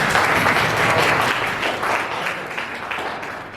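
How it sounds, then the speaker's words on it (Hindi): Students in an SPSS training class for nursing students clap for themselves, a loud, close burst of many hands that holds steady and then tapers slightly toward the end, with no talk heard over it. "अपने लिए ताली बजाइए यार"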